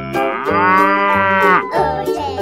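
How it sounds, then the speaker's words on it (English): A cow gives a long, loud, close moo that holds steady before trailing off, with a faint rhythmic beat underneath. "cow,"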